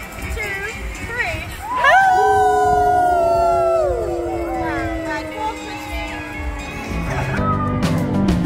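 A toddler imitates a werewolf at a Halloween event at Legoland Windsor, letting out a long rising and falling howl, loud and close, followed by more voices and a second howl.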